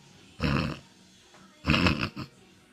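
A man imitates snoring with his voice, giving two rough, rasping snores, the second longer and ending in a short extra snort, close and fairly loud against quiet.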